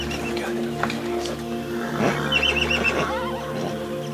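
A mare whinnies loudly to an orphaned foal, with a long shaky neigh over steady background noise and a few faint hoof sounds.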